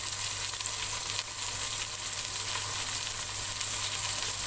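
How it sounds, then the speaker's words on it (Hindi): Ground coriander, turmeric, salt and red chilli powder frying in a pan for Pakistani aloo gosht, giving a steady, close hiss of sizzling oil that holds evenly throughout with no talking. "अब इनको मैं थोड़ी देर भून लूंगी।"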